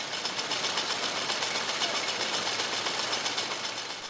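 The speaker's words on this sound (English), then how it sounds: "This is a screw gill type fast drying machine." A screw gill type fast drying machine for jute running with a dense, continuous mechanical clatter and rapid rhythmic ticking, loud and close, no voices.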